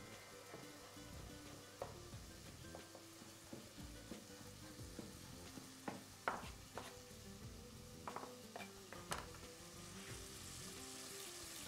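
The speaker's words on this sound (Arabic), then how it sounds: "اقلب اللحمه" Minced meat sizzles steadily in a frying pan while being stirred and turned, with close scraping and clacking of the utensil against the pan and a continuous crackle of hot fat underneath.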